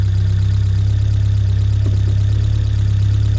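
A 1979 Fiat 124 Spider engine idles steadily during ignition timing adjustment, a low, continuous rumble, the pitch holding fairly constant throughout.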